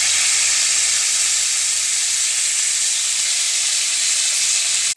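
Neem leaves hit hot oil in a pan for a Bengali neem and eggplant dish, producing a loud, continuous, close sizzling hiss that holds steady throughout.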